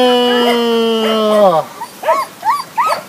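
A small fluffy dog on a walk whimpers in a long, high, wavering whine, then yips in several short, close, sharp bursts.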